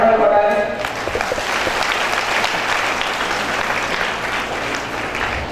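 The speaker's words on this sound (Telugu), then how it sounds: "మీరు అందరూ కూడా ఒకసారి చప్పట్లు కొట్టాలి" An audience at an awareness programme breaks into sustained applause, a dense, loud wash of clapping that holds steady for several seconds after a brief voice at the start.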